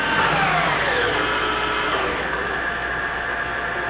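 A Clausing/Colchester engine lathe spindle runs in its high range, a loud steady mechanical whine and hum that slowly drops in pitch as the speed winds down, with no talking.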